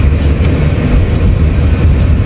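An elevated MRT train in the Philippines rumbles past overhead near a mall, a loud, continuous low roar with steady rail noise filling the whole stretch without a break.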